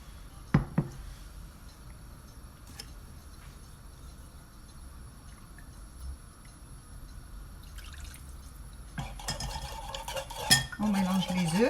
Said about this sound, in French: On mélange les œufs avec un peu de sauce, du bouillon de la